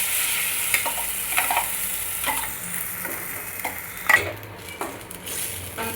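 Ground paste stirred into fried onions in a hot pan, sizzling steadily up close while a utensil scrapes and taps the pan in irregular strokes.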